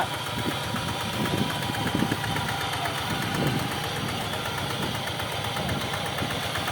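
A customer's car, handled by a Chiang Rai mechanic, runs with a steady, close engine drone while being driven, with no voices.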